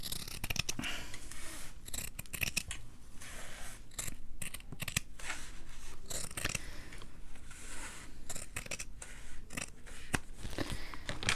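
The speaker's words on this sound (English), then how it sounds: "Maybe I'll just cut on one of these lines." Scissors cutting along the lines of a leather-look cover, a close series of crisp snips and scraping crunches in an uneven rhythm, with brief pauses between cuts and no talk.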